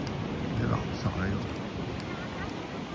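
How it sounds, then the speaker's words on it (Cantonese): Big waves break at Ham Tin Wan beach as a continuous low surf roar with wind noise, under a person talking nearby. "咧就真係到咗鹹田灣啦，好大浪喺度"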